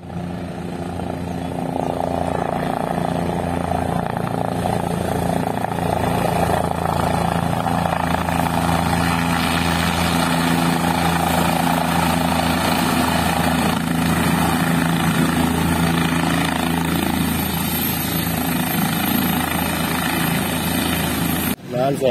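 A helicopter flying near a roadside event, its loud steady rotor thrum and engine whine running continuously for over twenty seconds and fading slightly toward the end.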